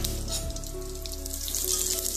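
Curry leaves are tossed into hot oil for a tempering, along with mustard seeds and dried chillies, producing a steady crackling hiss of frying at close range under a low background hum.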